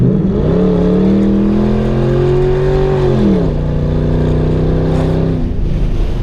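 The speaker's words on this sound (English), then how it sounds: "The response, the throttle response on the car, it's ungodly." A Ford Crown Victoria engine, freshly treated with Sea Foam, revs up sharply, holds a high steady pitch, then drops back and gives a second shorter rev, loud and close with no talking.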